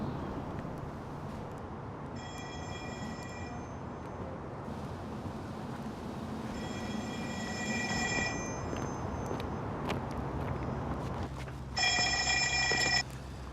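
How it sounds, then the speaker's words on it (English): A telephone bell rings in three separate bursts, the last one loudest, over a steady low rumble of background noise. "Is that a phone ringing?"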